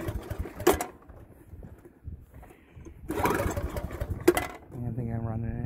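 A small leaf blower engine with a choke-and-run problem sputters, then settles into a steady buzzing idle near the end, after someone talks over loud handling clatter.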